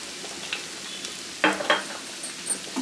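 Spatula stirring aloo methi fry, potatoes and fenugreek leaves with a little coriander powder, in a pan: a few soft scraping strokes and light sizzle, close and quiet, with two clearer scrapes midway.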